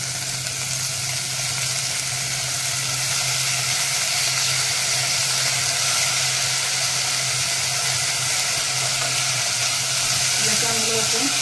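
Cashews, green peas and cauliflower frying in hot oil for veg pulao, a steady close sizzle lasting throughout with faint stirring near the end.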